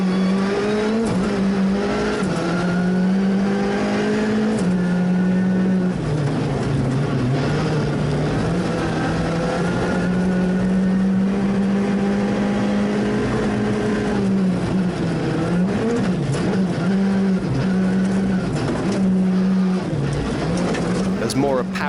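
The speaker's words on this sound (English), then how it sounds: "Mora powers his car around the rim of the volcano." A Skoda rally car on a gravel stage around a volcano rim in the Azores, its engine note rising and falling through gear changes and slides, loud and continuous, with a commentator talking over it.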